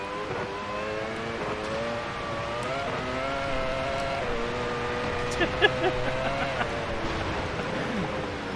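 A 1990s Formula V10 Gen 1 race car in Automobilista 2 lapping a rain-soaked Azure Circuit, its close, high engine wail rising and falling through gear changes, sustained and loud.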